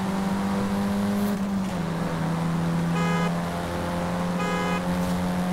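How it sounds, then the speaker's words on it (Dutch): Steady engine drone of racing cars in a Forza Horizon 5 drag race, with a low hum and occasional higher whines, continuous and loud throughout, with no talking. "Dit is een drag race tot de finish"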